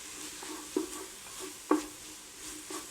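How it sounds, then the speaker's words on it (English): Spices, chili powder and cumin, stirred into a tortilla soup pot over a low sizzle, with two sharper scrapes of the spoon against the pot among softer, steady stirring strokes. "I'm going to put these, dump all of that in and stir that around"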